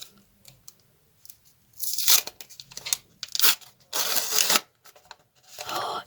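Paper surprise package wrapped in toilet paper being torn open, a series of loud ripping and crinkling bursts separated by short quiet gaps, close up.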